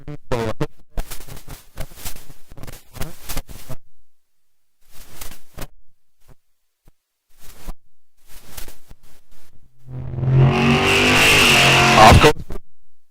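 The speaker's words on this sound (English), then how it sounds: "guessing it's a big block Chevy" Big block Chevy drag car engine at a drag strip: scattered short bursts of engine noise through the first half, then a loud, sustained revving roar building near the end before cutting off.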